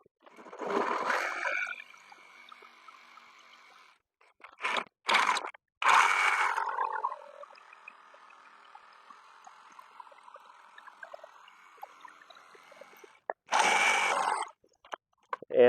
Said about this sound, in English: So then I just run my recip saw down the cut, and that cuts the back side where the saw is rounded.